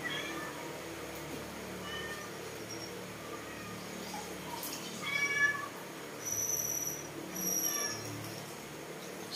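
A cat in a home at dinnertime gives a few short meows over a faint background hum, with quiet chirping cries and nothing else prominent.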